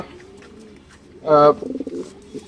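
Lahori pigeons at a pigeon farm give a short, close coo that rises out of a background of people talking nearby, with more soft bird calls after.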